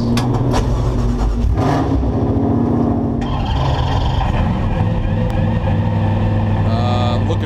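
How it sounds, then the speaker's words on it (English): Loud race car engines roar and rev nearby at a Pirelli World Challenge race start, several motors growling at once with rising and falling pitch, a faint voice briefly underneath. "driver, start your engines."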